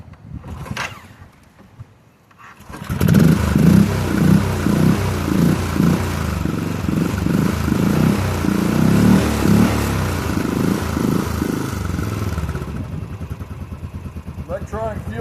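A 500cc motorcycle with a kickstart and electronic fuel injection starts up after a brief quiet spell, then runs steadily at a loud, rhythmic idle with a few revs, close by, with a voice heard at the start.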